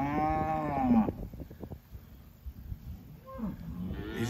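Red Angus cows and calves low nearby, a long loud moo at the start, softer calls in the middle and another rising moo at the end, with light rustling between calls.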